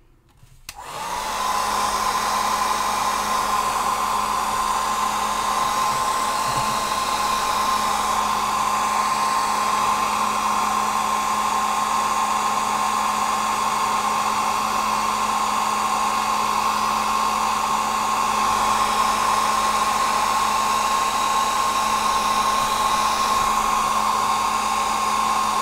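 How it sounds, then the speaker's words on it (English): A hair dryer whirs steadily and loudly after a brief start, its motor hum and rushing air holding constant throughout with no voices. "So hairdryer's going on now."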